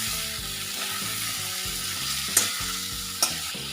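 Carrots and capsicum fry in a pan with a steady sizzle while a spoon stirs them through in a continuous rhythm, broken by two sharp clinks of the utensil against the pan.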